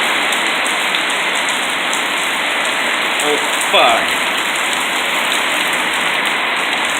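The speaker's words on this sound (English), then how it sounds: "Everything's being pelted with rain right now." Heavy rain pelts every surface in a steady, loud, unbroken hiss, and a voice briefly swears partway through.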